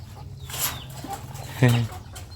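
Short clucks and squawks of turkeys and ducks feeding close by, a few brief calls over a low background murmur.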